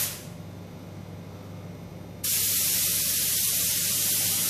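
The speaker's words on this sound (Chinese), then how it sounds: "在上色的话，一开始就好像喷漆一样" Spray gun applying a nano chrome plating coat, starting with a faint low hum and then bursting into a loud, steady, close hiss that keeps going to the end.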